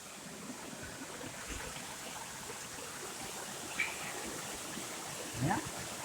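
A creek swollen by heavy rain and slightly overflowing its banks rushes with a continuous broad wash of water. A couple of brief high chirps cut through near the end.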